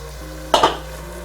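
Rice tipped into a hot paella pan and stirred, giving a brief burst of sizzling and scraping with a couple of quick clatters near the middle, then fading back to a low kitchen hum.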